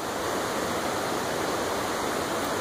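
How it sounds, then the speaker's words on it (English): A river rushes below a hiking trail along the Salmon River, a constant, dense wash of flowing water that stays steady and full without any voices. "The river's down there."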